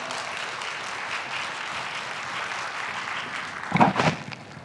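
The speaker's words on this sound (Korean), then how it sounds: "박수로 한번 환영해 주십시오." A church congregation at a Sunday worship service applauds in a steady, moderately distant patter of many hands, swelling briefly louder near the end before fading.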